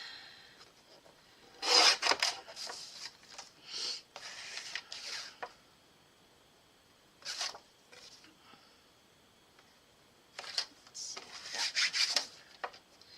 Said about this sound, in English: So I'm gonna just cut these at 3-inch strips.